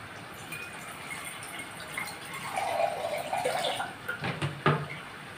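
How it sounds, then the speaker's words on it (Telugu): Water is poured into a mixer jar, giving a soft, close trickle that swells briefly in the middle before a few light knocks and splashes at the end, fairly quiet and without speech. "ఇలా ఇందులో వాటర్ పోస్తుంది."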